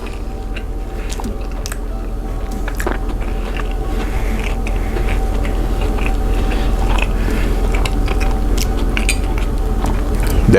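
Someone chews a bite of buttermilk pancakes made in a cast iron pan, the soft chewing and biting fairly close over a steady background hum, with faint clinks of dishes and utensils now and then.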